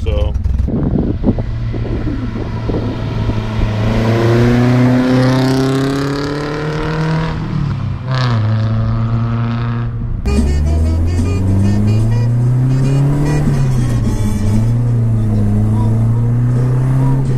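A 1973 Datsun 510 Bluebird SSS with an 1800 engine and four-speed gearbox being driven, its engine revving up and down through gear changes, loud and steady from inside the car.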